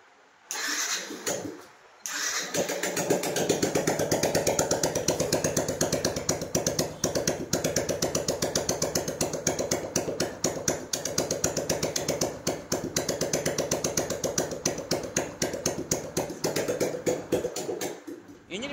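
A motorcycle engine under repair in a mechanic's shop starts up and runs with a rapid, steady chugging beat, close and loud, continuing for most of the stretch.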